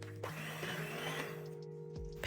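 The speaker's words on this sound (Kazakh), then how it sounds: "Кішкене суытып алып миксерлейміз." An electric mixer whirs through cooling choux pastry dough, a steady close motor hum with a few bumps and clunks as it shifts, with no talking.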